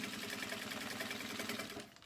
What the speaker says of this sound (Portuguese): E vou costurar aqui